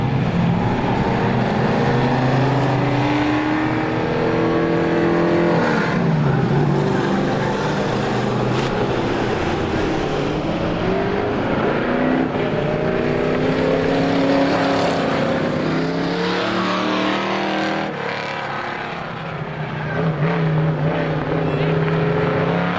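Race cars roaring around a speedway track during a feature race, a continuous loud engine drone with rising and falling pitch as cars pass, under a voice talking over the whole stretch.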